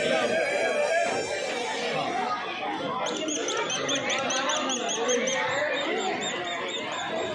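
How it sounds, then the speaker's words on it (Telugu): A small toy sparrow sold at a crowded exhibition stall chirps in rapid, repeated high tweets that start partway through, over a constant murmur of crowd chatter. "ఇది పిచ్చుక సౌండ్ వస్తుంది"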